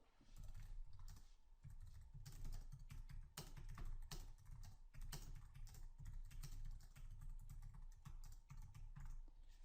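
Quiet, steady typing on a computer keyboard, a close, continuous patter of soft key clicks with small pauses, no voice over it.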